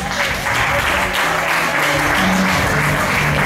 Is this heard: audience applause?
yes